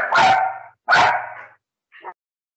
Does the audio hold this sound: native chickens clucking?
no